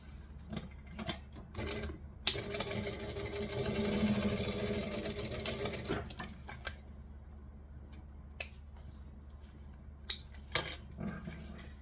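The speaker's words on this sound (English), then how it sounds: "We're going to fold this one over because we want to stitch along here" Sewing machine stitching along a fold of fabric, a steady whirring run of about four seconds followed by quieter handling noises and a few sharp clicks and taps, close and without talk.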